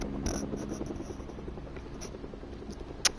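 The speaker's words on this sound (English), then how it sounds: "I'm going to shoot at the helicopter" Helicopter flying in the Fortnite video game, a steady low rotor chop droning at a constant level throughout, with a faint high tone and one brief click near the end.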